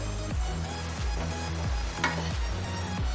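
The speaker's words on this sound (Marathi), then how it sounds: "गव्हाचं पीठ आपलं आता भाजते" Wheat flour is dry-roasted in a pan, giving a soft, steady sizzle with the scrape of a spatula stirring it in regular strokes, close and fairly quiet.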